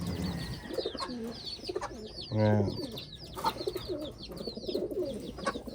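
Medium-sized, round, compact-bodied pigeons coo in soft repeated bubbling calls close by, with one louder throaty coo in the middle, under someone speaking.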